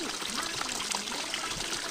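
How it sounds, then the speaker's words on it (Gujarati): Water gushes steadily from a pipe fed by a running motor pump on a farm, a continuous close splashing pour with faint voices in the background. "જો ભૂંગળામાં પાણી થઈ ગયું ચાલુ"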